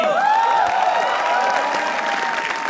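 A comedy roast battle audience claps and cheers, a steady wash of close applause with whistle-like or musical tones gliding over it for the whole stretch.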